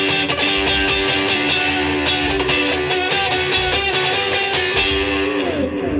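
An electric guitar with heavy gain chugs through a driving distorted rhythm on its own, steady repeated palm-muted strums at constant loudness, close and dense.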